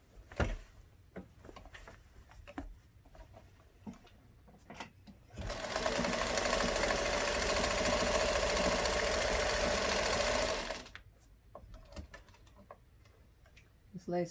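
A sewing machine stitches down lace edges on a collage hat in a loud, steady run of about five seconds, set between quieter stretches of handling clicks and faint talk.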